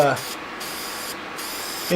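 Aerosol spray can hissing steadily as finish is misted onto a redwood sign, a continuous close spray lasting most of the moment, with brief voice-like sounds at the start and end.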